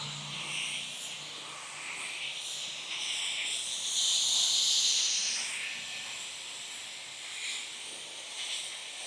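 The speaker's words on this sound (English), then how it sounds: "This little guy is just blowing all this debris out of the garage." Handheld compressed-air blaster blowing debris out of a garage, a steady, close rushing hiss that swells slightly in the middle and holds without pause.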